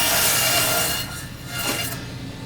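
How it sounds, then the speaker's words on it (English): A handsaw making a cut in wood while building a kerfmaker, a close, loud rasping stroke that fades and then returns briefly. "Bring this over, and then make my second cut."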